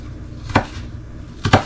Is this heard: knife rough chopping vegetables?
yes